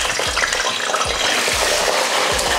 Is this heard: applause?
no